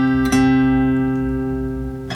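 Acoustic guitar notes from the verse of a song, two sharp plucks close together near the start ringing out into a long sustained decay, with a fresh attack just at the end; close and clear, no voices.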